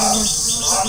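Honeybees working lychee flowers in an orchard, a steady close, dense humming drone with no pauses through the brief moment.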